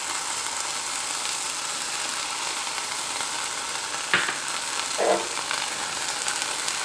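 Peppers, onions, mushroom and tomato sauté in a hot pan with a steady close sizzle, broken by a couple of short scraping stirs near the end.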